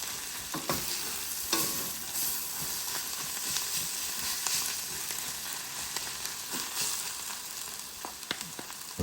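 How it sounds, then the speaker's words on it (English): Dried mint and leafy greens (dandelion, kale, swiss chard, spinach) being stirred in a frying pan, giving a steady close sizzle with scraping spatula strokes and soft clicks throughout, no voices. "I mix my mint thoroughly with the greens"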